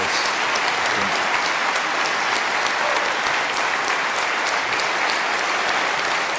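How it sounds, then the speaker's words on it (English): A large audience applauds at the close of a live debate, loud, dense and sustained clapping that fills the hall without pause and with no talking over it. "I told them not to clap."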